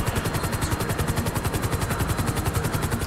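Helicopter in the video game GTA 5 during a heist setup mission, a steady loud rotor chop with rapid rhythmic pulsing throughout, with no talking.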